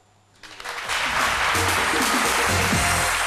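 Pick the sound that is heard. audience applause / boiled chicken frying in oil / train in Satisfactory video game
audience applause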